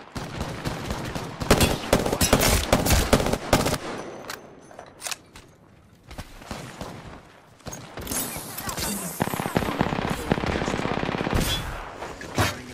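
A Sentinel rifle in Apex Legends fires full auto because of a bug: rapid bursts of close, loud gunfire repeat through most of the clip, with brief pauses and a couple of spoken game voice lines mixed in.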